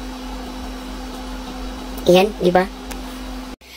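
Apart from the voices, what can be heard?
air conditioner running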